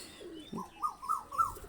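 A Pakistani high flyer pigeon coos close by, a soft low note followed by three rising, wavering coos in steady succession, with no other sounds around it.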